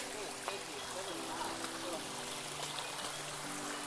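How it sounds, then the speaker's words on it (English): Rainwater runs steadily down a muddy hiking trail on the Appalachian Trail near the NOC in North Carolina during bad weather, a continuous wet rushing and trickling close by, with footsteps and faint background sounds mixed in. "Why are we making a waterfall of the trail?"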